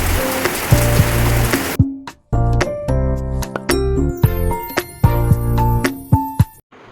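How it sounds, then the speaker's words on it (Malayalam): Heavy rain pours down outside a home, a dense steady hiss that is loudest at the start, then layered with ringing tonal notes and sharp drip-like clinks for the rest. "മഴ ഭയങ്കര"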